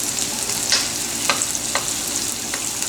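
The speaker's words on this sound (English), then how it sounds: "We're going to get that in this wok. It's going to cook quite quickly." Sliced onions for a vegan stir-fry sizzling loudly in a wok, a close, constant frying hiss broken by a few soft stirring scrapes.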